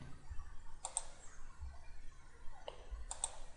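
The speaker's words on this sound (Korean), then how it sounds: "클릭, 클릭, 끝점 클릭," Computer mouse clicks during work in Autodesk Inventor 2015, a few sharp clicks spaced apart, close and quiet over faint background hiss, no talking.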